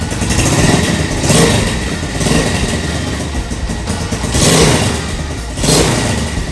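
A Honda Tiger 2000 motorcycle engine is revved several times up close, each blip swelling into a loud roar and dropping back toward idle in repeated surges.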